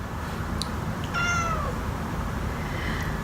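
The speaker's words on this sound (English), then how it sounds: "Okay, so Coco, my cat, decided to join us" A pet cat indoors gives one clear, drawn-out meow partway through, close and fairly loud above a steady low background hum.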